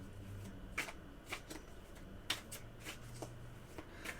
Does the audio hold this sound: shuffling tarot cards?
yes